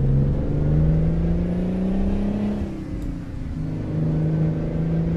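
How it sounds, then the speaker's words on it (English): Kenworth W900 truck with a Detroit Diesel engine revved in American Truck Simulator, a loud steady engine drone climbing in pitch, dipping briefly, then rising again, with no talk. "Now, let's rev this baby."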